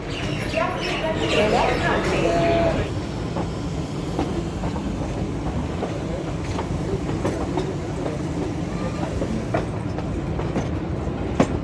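Kalka–Shimla toy train running along its rails, a steady rumble with rhythmic clickety-clack of wheels over joints throughout, and voices talking faintly over the noise.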